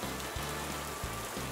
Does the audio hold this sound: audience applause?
no